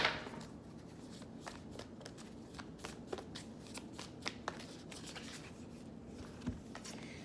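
A Moonology oracle card deck is shuffled by hand, giving quiet, rapid riffling and flicking of cards with irregular soft taps throughout, close up and alone.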